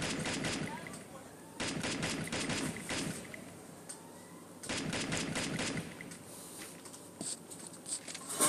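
Bursts of rapid gunfire in a Free Fire battle royale match, sharp repeated shots in clusters of a second or so, separated by brief lulls, with a voice talking over the action.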